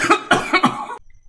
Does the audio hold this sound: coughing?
yes